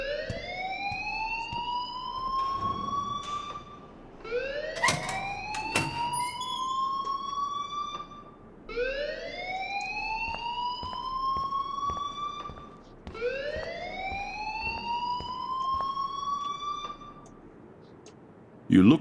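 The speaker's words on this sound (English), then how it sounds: "please turn off that alarm since that's your job" A repeating alarm from the video game Life is Strange wails in rising, siren-like sweeps, four long cycles in a row, loud and close, with brief scattered clatter in between.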